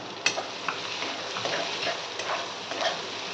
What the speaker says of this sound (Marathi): आता मिरचीचा ठेचा आणि कांद्याची पात आणि कांदे आपण चांगले परतून घेऊ